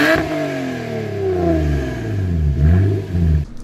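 A 2005 Toyota Camry engine revs hard through a loud, raw single straight-pipe Magnaflow exhaust, pitch sweeping down then climbing again in a throaty, close-up roar.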